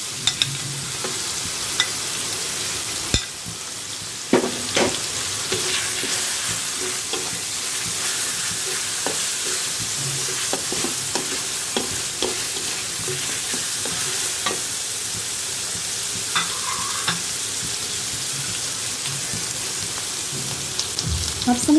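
Garlic paste sizzles steadily in hot oil in a pan for a fish fry or dopiaza, a broad crackling hiss running throughout, broken by scattered clinks and scrapes of a spatula stirring close by.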